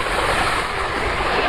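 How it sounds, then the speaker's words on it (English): Wind blowing hard against a tent pitched with several guy lines during a storm, a steady loud rushing roar with no pauses. "But I'm sure you can hear the wind."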